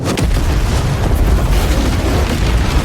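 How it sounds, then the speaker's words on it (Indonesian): A loud, sustained explosion with deep booming rumble and crackling debris, filling the whole stretch with dense noise. "terjadilah ledakan yang cukup besar"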